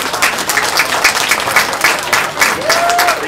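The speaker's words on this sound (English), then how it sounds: "Let's give them a round of applause." Audience applause at a 4-H market lamb show, a steady wash of many hands clapping at close range that holds throughout, with a short tonal squeak near the end.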